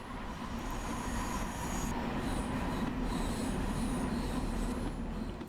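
A Long Island Rail Road M3 train coasts toward the yard in Train Sim World, giving a continuous close rolling rumble with drawn-out high wheel squeals that rise partway through. No voices are heard.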